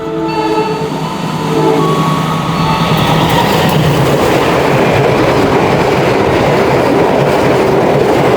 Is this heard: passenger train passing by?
yes